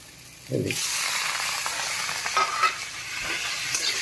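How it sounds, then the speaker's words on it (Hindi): Tomatoes dropped into a hot pan for chutney set off a sudden loud sizzle that keeps hissing steadily, with stirring sounds over it and a few small clatters, close by and with no talk. "अब इसको टमाटर डालते हैं"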